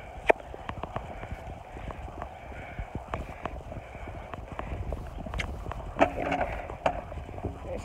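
A horse canters on the lunge, its hoofbeats coming as faint, irregular thuds over a quiet outdoor background, with no clear talk.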